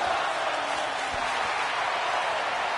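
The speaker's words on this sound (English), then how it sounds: "This crowd on their feet here." A wrestling show crowd on its feet roars in a dense, sustained wash of cheering and noise that fills the arena without letup.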